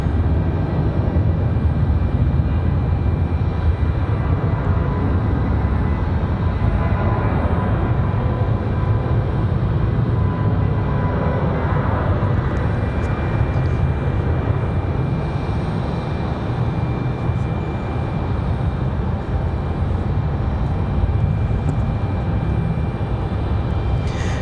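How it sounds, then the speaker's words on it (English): Southwest airliner departing RDU Raleigh Durham airport, a loud steady jet engine rumble and roar sustained throughout, with no talk. "As we get the departure of Southwest."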